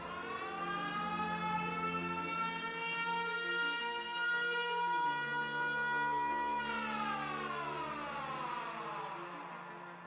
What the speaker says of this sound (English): a loud siren shattered the calm